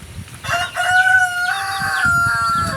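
Chickens on a backyard farm give loud, close clucks and drawn-out squawking calls in a quick run of bursts, with no talking.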